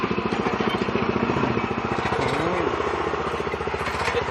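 A small Korean-made cultivator tiller engine runs steadily close by, giving a loud, even, rapid chugging putter that shifts slightly in pitch partway through.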